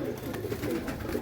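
Kept pigeons coo softly in a low, steady murmur, a continuous close burble with no voices.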